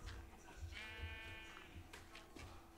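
Sheep bleating in the video game Minecraft One Block SkyBlock, a few wavering bleats at moderate distance over a low background hum, with no talk.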